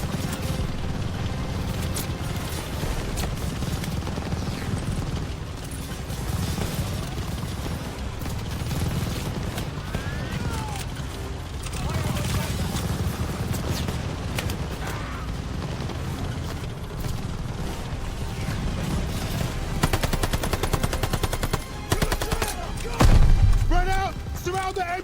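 Battlefield combat in Call of Duty Vanguard, with dense continuous gunfire, bursts of machine gun fire and heavy booms rolling under shouted in-game voices, loud and sustained throughout and swelling toward the end.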